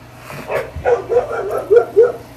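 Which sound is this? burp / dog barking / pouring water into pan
dog barking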